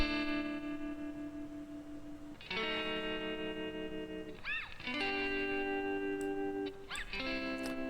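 Electric guitar phrases with sustained chords and single-note bends, processed with EQ, compression and a spacious reverb tail, played alone at moderate level.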